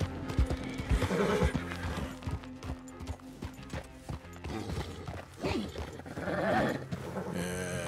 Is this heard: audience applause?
no